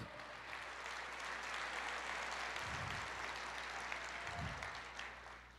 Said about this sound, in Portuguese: Aplauda mais forte, porque Ele merece toda a honra